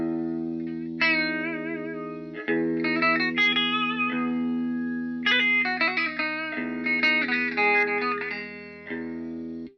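An electric guitar shaped by sitar-emulating plugins plays a twangy, bending melody that sounds like a sitar, with reverb sustaining the notes over a steady drone.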